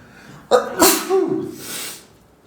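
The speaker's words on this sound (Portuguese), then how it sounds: "de vez em quando eu vou dar uma espirrada aqui" A single loud, close sneeze from a person with rhinitis: a quick inhaled gasp followed by an explosive burst that trails off into a breathy exhale.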